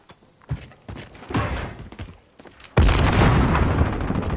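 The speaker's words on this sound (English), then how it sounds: "nade comes through and kills his own teammate there" A grenade goes off in a Call of Duty match with a sudden heavy boom, after a few scattered thuds and gunfire, leaving a loud rumbling wash.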